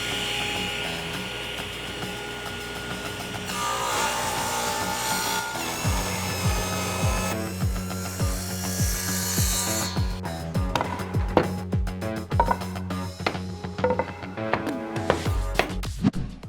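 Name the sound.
sawing wood strips for faux butcher block desk top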